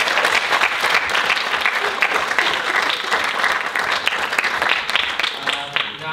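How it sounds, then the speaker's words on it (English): Sustained audience applause at a talk rolls on at a steady, loud level, a dense patter of many hands clapping with no pauses, thinning only slightly near the end. "Can we give another round of applause to Saeed?"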